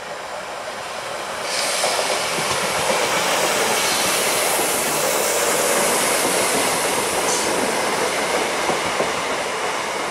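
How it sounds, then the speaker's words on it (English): A three-carriage Class 320 electric train passes the station at Jordanhill, starting with a steady rumble, then swelling into a loud, sustained rush of wheels and clatter close by that carries on to the end. "Here comes a 320 doing 2S39 from Wiflute to Dalmuir. Three carriages."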